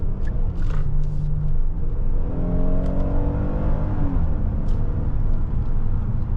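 A 2024 Hyundai Palisade Limited three-row SUV accelerates, heard from inside the cabin as a loud steady engine and road rumble with a smoothly rising whine as speed builds.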